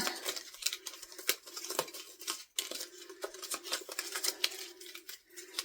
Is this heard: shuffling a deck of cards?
yes